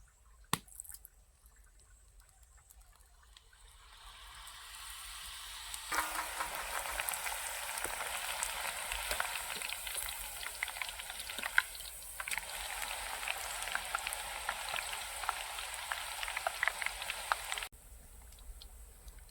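Sev, gram flour noodles, frying in hot oil for laddus, a steady soft crackling and bubbling sizzle that swells after a few quiet seconds and holds at low level.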